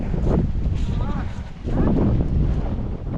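Strong wind buffets the microphone in heavy, rumbling gusts, with a voice faintly present underneath throughout.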